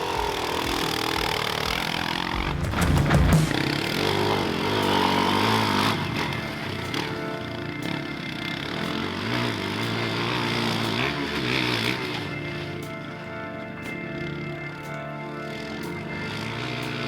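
A dirt bike engine labors through ruts in snow and mud, a continuous rough buzzing roar that rises and falls with the throttle, loud and close throughout with no talking.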